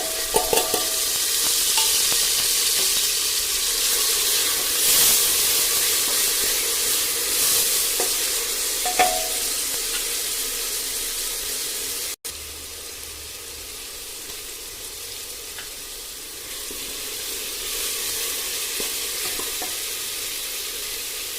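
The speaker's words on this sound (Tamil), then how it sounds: "எல்லாம் எண்ணெய் நல்லா வதங்கட்டும்." A thick paste of ground tomato, shallots, ginger and garlic sizzles steadily in hot oil for mutton curry, with occasional scrapes and stirs of a spoon in the pan.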